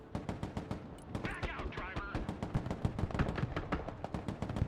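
Sustained gunfire in the video game Broken Arrow, a dense run of rapid sharp shots with brief heavier bursts, steady and fairly close, with a few faint voice-like sounds mixed in.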